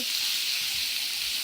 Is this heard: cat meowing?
no